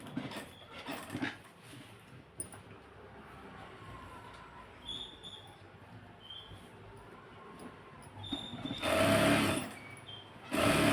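A sewing machine stitches a pocket on a dhoti in short bursts, with quiet gaps between runs and a louder sustained burst near the end; no one speaks.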